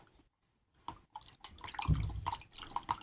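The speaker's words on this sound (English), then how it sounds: "And then I'm going to give it a stir." A liquid mix of cresylic tar acid and water stirred in a container for homemade black dip disinfectant, giving soft, irregular sloshing and clinking that builds after a quiet start.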